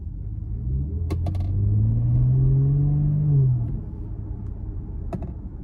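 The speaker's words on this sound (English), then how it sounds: "that exhaust note does not get old" A 2023 Audi SQ5's exhaust rumbles low and deep, swelling in a brief rev then settling back to idle, with a couple of sharp clicks near the start and end.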